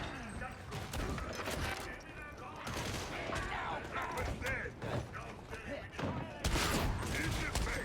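Shotgun blasts in the co-op shooter Warhammer 40,000: Darktide, sharp reports scattered across a busy battle mix of clanks and other gunfire, with voices talking over the action.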